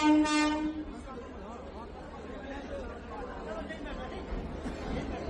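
Train wheels roll in a steady, moderate rumble used as a horror-story sound effect, opening with a short horn blast, with muffled chatter running underneath.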